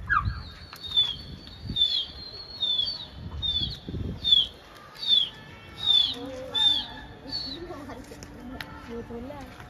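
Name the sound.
pigeons flying, flapping wings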